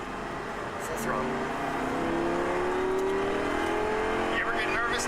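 A car accelerates at full throttle on a race track, its engine note climbing steadily in a rising, sustained whine over several seconds with a driving instructor's voice talking over it.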